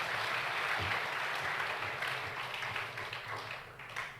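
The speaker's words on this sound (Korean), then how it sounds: "큰 박수로 환영하겠습니다" Congregation applauding at a Korean healing revival service to welcome the guest preacher, a dense sustained wash of clapping from a large crowd, loud at first and easing slightly toward the end.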